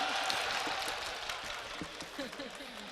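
An audience at a mushaira claps in scattered, light bursts at moderate distance, mixed with crowd murmur and a voice over the top.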